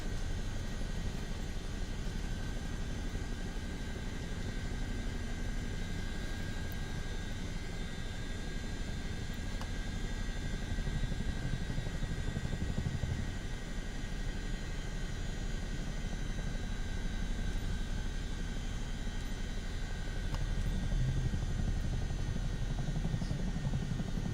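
A video game helicopter idles with its tail rotor stuck inside a building, giving a loud, unbroken rotor-and-engine roar that holds steady for the whole stretch with no talk.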